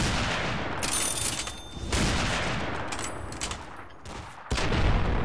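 Dense, continuous gunfire fills the Fallout video game, a loud rolling barrage of shots with sharp louder reports at intervals and no break in the noise.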